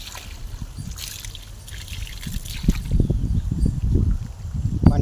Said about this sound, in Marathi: तर आता पाणी येत आहे.